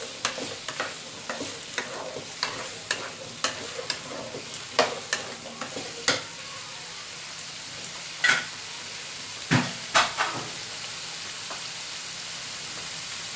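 Potatoes fry with garlic in a pan until golden. A soft continuous sizzle runs under repeated scraping stir strokes, which come steadily at first and turn sparser and louder later, with no talk.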